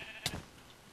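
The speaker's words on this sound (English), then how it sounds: "Kill the sheep." Sheep bleating in a video game, a single short bleat, clear and close, over a faint steady background hum.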